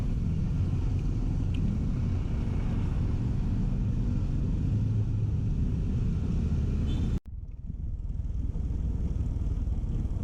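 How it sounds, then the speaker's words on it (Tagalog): Heavy road traffic with big trucks passing in Norzagaray, Bulacan, Philippines, a steady loud low rumble of engines and tires that cuts off abruptly near the end, followed by quieter traffic. "Malalaking truck dito."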